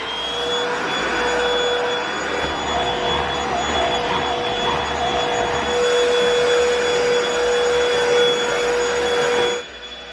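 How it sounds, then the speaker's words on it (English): A cordless vacuum cleaner hoovers the floor indoors, a steady loud motor whine with a constant high tone running for about ten seconds before cutting off, close and without talk. "I have hoovered and my hoover is now back on charge."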